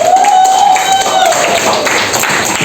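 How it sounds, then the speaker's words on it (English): A class applauds a student group during a teaching session, a steady wash of many hands clapping at close range, with a voice briefly over the start. "give applause to group 4."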